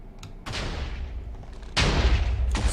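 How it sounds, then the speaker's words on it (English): A cannon blows up during a fast online video game match, with two sharp booming blasts about a second apart, each followed by a rumbling decay, loud and close with no talk over them. "Looks like Dragon Stomper did win, however his cannon has exploded."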